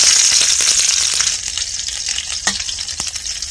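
Green chillies and asafoetida sizzling loudly in hot oil for a village-style dal tadka, a close, bright crackle that eases slightly, with scattered pops and a light metallic tap.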